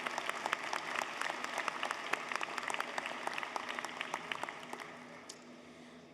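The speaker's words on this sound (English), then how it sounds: "Let's have a round of applause for these individuals." Audience at a fall university commencement ceremony applauds alumni award winners, a steady wash of many hands clapping in a large hall, sustained throughout before tapering off near the end.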